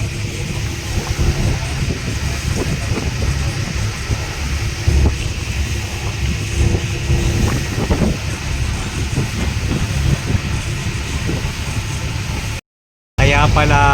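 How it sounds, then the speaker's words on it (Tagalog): Wooden passenger boat bound for Guimaras on the Jordan ferry route, rocking in strong wind and waves: a steady, loud roar of engine, wind buffeting and water, with voices faintly beneath and a brief cut near the end. "Nakasakay na ng bangka, bound for Guimaras, dinuyan-duyan pa dahil sa lakas ng hangin at alon."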